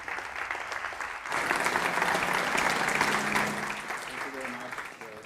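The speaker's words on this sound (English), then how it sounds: "A round of applause for all." A conference audience claps at a silicon industry forum in Valencia: a dense, even burst of applause that starts abruptly, holds for several seconds, then thins out, with faint talk underneath.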